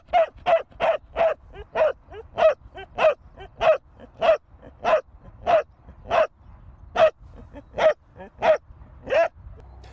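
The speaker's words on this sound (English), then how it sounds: "We've recorded over 100 different vocalizations that dogs make" A dog barks over and over in a steady rhythm of about two sharp barks per second, close and loud, with quiet gaps between barks and no talking.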